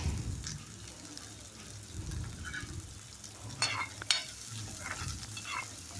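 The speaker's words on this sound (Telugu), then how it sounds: "ఈ కొంచెం సేపు వేగనియాలి" Bitter gourd frying in a pan with slit green chillies and curry leaves, a moderate continuous sizzle with stirring scrapes and a few clinks of the spoon, no speech.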